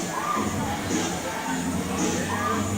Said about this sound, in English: Good crowd for a Tuesday night